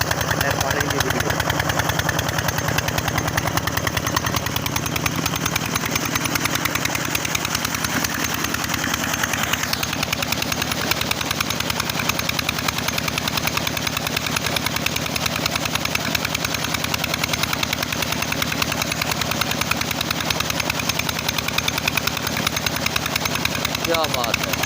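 Motorcycles run along a road past fields, their engines making a steady, rough drone with rattling, gunfire-like sputters that swells and fades as they pass, with voices mixed in.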